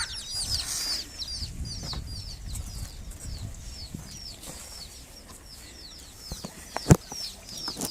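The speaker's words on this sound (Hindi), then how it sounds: "ये जी मुर्गियाँ जो बच्चे निकाले हुए ताज़ा फ्रेश बच्चे" Hens cluck softly among freshly hatched chicks, whose high peeping chirps run continuously through the scene, with a brief wing flap or thump near the end.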